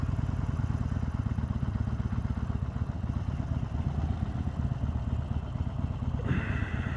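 A 2020 Harley-Davidson Sportster Iron 883 motorcycle engine runs steadily and fairly loud throughout, a continuous low rumble with a faint brief shift near the end and no talk.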